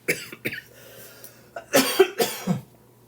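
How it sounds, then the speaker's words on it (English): A short run of several harsh coughs up close, muffled at first and then louder, with no talking. "Oh, I'm going to cough."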